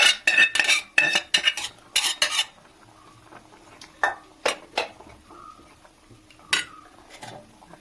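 Cooked yam, onion and drumstick pieces are tipped into a pan with mustard seasoning for a Kerala prawn theeyal, giving a burst of sharp metal scrapes and clatters, then scattered spoon knocks and stirring sounds.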